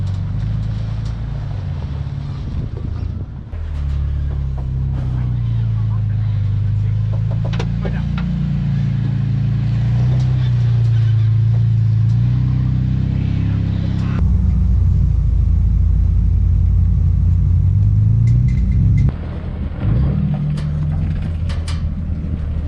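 An off-road vehicle's engine rumbles and labors at low revs as it crawls and flexes over a rocky obstacle on Cleghorn Trail, a steady close drone that rises and falls in pitch, with a sharp shift partway through.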